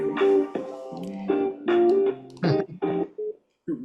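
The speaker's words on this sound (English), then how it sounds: "Really, really have to change the ringtone." A phone ringtone plays a series of bright melodic tones in short bursts with brief gaps, fairly loud and close, with no one speaking over it.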